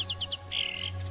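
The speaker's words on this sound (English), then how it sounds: "Chirping, sound made by the birds." Small birds chirping in a quick series of four bright tweets, followed by a longer warbling call, over a faint steady hum.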